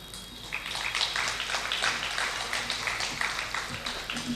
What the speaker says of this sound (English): please welcome with a huge round of applause Vidushi Neela Bhagwat